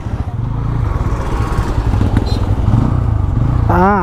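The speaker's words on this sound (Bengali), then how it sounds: "ও সেই দৌড়াচ্ছে বাইকটা" A Yamaha Raider 125 motorcycle engine runs steadily close by, with a rough, throbbing low rumble as the bike rides along, and a brief rising whine near the end.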